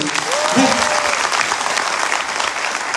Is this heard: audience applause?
yes